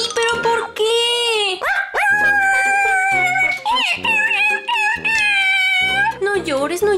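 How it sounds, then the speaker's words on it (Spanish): A puppy cries in long, high, wavering whines and howls, loud and close, in bursts with short breaks between them. "No llores, no llores, perrito, no estoy enojada."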